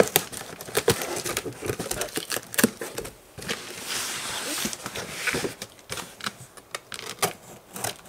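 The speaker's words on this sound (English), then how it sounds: "I'm always very careful on ripping the box open" A cardboard Jordan 1 shoe box is torn and picked open nearby, with sharp scratchy rips, crinkling and tapping clicks in irregular bursts.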